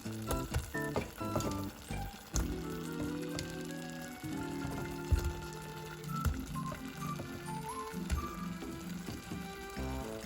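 Pieces of yuca (cassava) go into a simmering tomato gravy for a spicy cassava and egg curry. Steady sizzling and bubbling run throughout, with soft stirring and clunking touches, close and fairly quiet, no talk.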